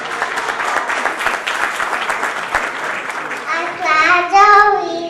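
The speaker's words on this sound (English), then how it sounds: "Give a big round of applause to Adriana." Dense, steady applause at a Lions Club annual dinner dance fills most of the clip, fading as a voice begins speaking over the tail end.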